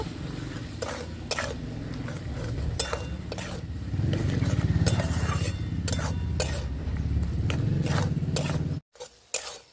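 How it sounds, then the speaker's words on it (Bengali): Taro leaves sautéed in a pan with salt, chili powder, turmeric and sugar: a low, steady sizzle under repeated scrapes and clinks of a spatula against the pan, with no voices. "মশলাগুলোর সাথে কচুর শাকটা ভালো করে কষিয়ে নেব"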